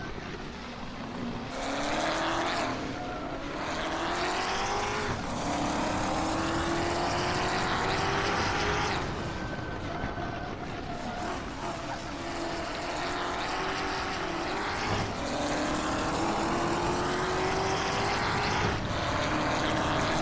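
Toyota Supra race cars roar along, engines climbing in pitch again and again as they run through the gears, loud and continuous with overlapping passes throughout.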